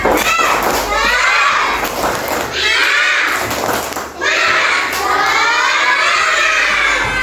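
Indonesian schoolchildren in a classroom chant the tepuk semangat clapping cheer together, loud, close, shouted voices with rhythmic claps and thumps running through most of the stretch, one brief dip midway.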